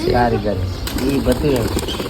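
Pigeons in a loft give close, repeated throaty coos with a flutter of wings, while a person talks over them.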